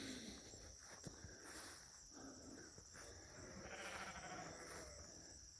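Sheep bleat faintly in a rural field, a few distant, wavering calls over a steady high chorus of crickets and insects, with no talking.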